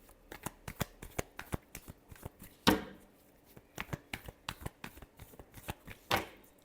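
Tarot cards are shuffled by hand in quick, rhythmic riffles, a close run of crisp flicks broken by a louder burst midway and another near the end.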